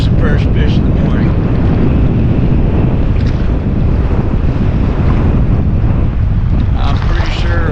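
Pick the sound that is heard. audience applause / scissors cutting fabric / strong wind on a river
strong wind on a river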